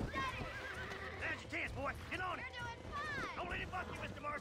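A horse being tamed in the Red Dead Redemption video game neighs and whinnies again and again in rising and falling calls, mixed with hoof clatter and a rushing background.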